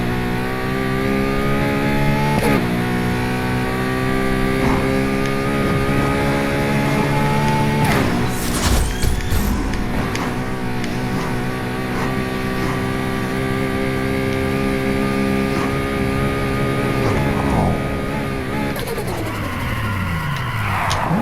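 A LaFerrari in Need for Speed Heat revs hard during a turbo test, a loud, sustained engine whine that climbs in pitch through several gear shifts, with a brief burst of clatter partway through.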